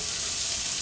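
Bacon sizzling in a skillet alongside potatoes, sausage, onions and shallots, a steady dense hiss of frying fat, close and constant, with no talk.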